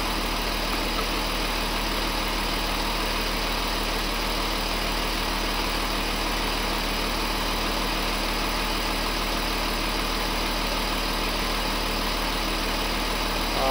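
A VW Phaeton engine idling during a gearbox oil change, a constant steady hum with an even low drone that never varies across the whole span, close by with no voices.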